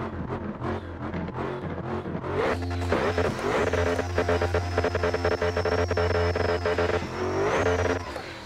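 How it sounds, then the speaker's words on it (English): A car doing a burnout in the racing game Assetto Corsa: a steady engine idle that jumps into loud, sustained high revving with a harsh tire-spinning roar, holding near the limiter before easing slightly at the end. "Let's do a burnout here, guys."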